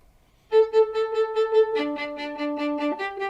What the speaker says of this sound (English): But we play it off the string,